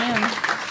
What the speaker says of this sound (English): You got applause for something you have no control over